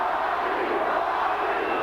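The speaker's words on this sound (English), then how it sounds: "The crowd getting behind" A boxing crowd roars steadily for Johnny Tapia during his 1999 fight with Paulie Ayala, a dense, continuous wash of cheering and shouting that fills the arena without a break.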